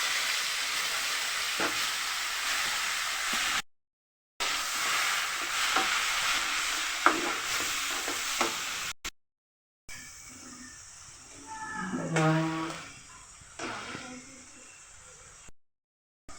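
Onion paste with ground ginger and garlic fries in a pan for a prawn curry, a close hissing sizzle broken by short gaps, then a softer bubbling stretch with a brief scraping stir.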